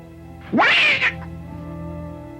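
A cat gives a single rising, drawn-out meow lasting about half a second, loud and close, followed by a faint low hum from a soundtrack in the classic horror film The Crawling Hand.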